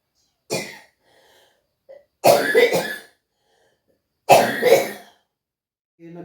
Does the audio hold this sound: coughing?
yes